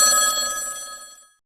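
One short burst of an old-style telephone bell ringing, bright and close, that fades out within about a second and a half, with no talk.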